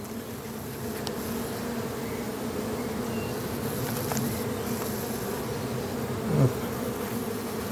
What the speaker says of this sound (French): c'est un faux bourdon là qui chante là